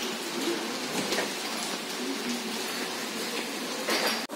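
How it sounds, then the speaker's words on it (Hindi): Heavy rain from Cyclone Tauktae pours down outside in India, a steady, dense hiss of falling water on surfaces that holds evenly from start to finish at a fairly faint level. "देखा फिर क्या जबरदस्त बारिश हो रखी है"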